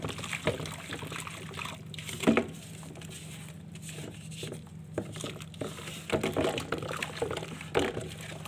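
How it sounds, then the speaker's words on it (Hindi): Water is poured into a putty mix in a bucket, with intermittent splashing, trickling and stirring noises at close range and irregular bursts. "पानी डालना शुरू हो चुका है"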